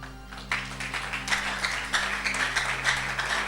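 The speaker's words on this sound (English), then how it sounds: "If you want to clap, you clap well." A church congregation claps along during a sermon, a steady dense patter of many hands over a low hum, moderately loud and continuous throughout.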